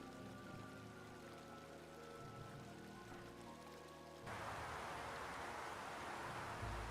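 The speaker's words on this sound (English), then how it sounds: "And the water running?" Running water in the Chrono Cross video game, a steady broadband rush that swells louder partway through over faint tonal game music, with no talking.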